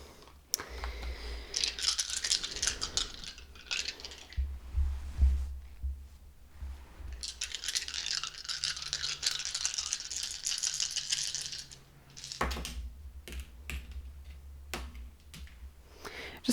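Several mystery dice roll and rattle across a surface in two long clattering bursts, each lasting a few seconds, with scattered small clicks and knocks between and after them, heard close with no talking.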